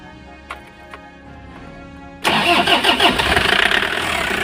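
A repaired car engine cranks and catches after a few quiet clicks, then settles into a loud, steady mid-pitched idle with slight rhythmic pulsing.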